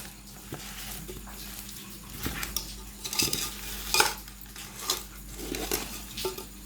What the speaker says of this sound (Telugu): ఇప్పుడు మామిడికాయ ముక్కలకి మొత్తం కారం అంతా పట్టేలాగా మంచిగా మిక్స్ చేసుకోవాలి